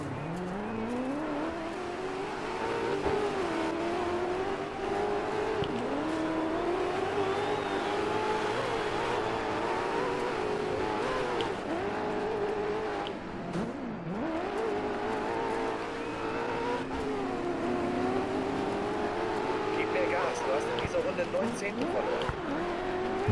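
A rally car in the DiRT 4 racing game drones with a steady engine whine that rises and falls through corners as it slides, with occasional tyre noise, while someone talks over it throughout.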